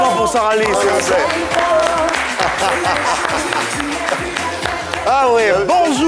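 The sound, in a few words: audience applause for Sarah Lise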